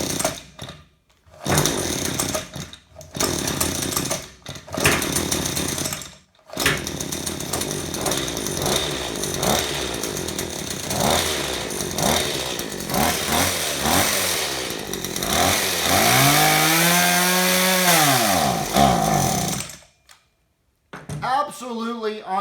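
A small two-stroke engine fitted with a Walbro carburetor, after a diaphragm repair kit, fires up and runs loud and close, with rough revving, sputtering cut-outs and a rising-falling rev sweep before it dies.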